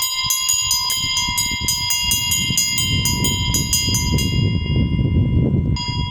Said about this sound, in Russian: Когда звучит колокол, творится молитва к Богу.